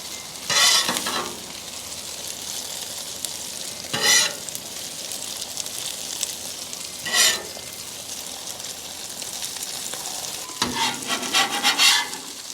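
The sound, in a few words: smash burgers sizzling on the griddle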